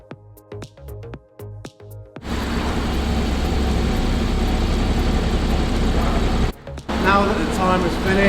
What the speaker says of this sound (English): So now the car's running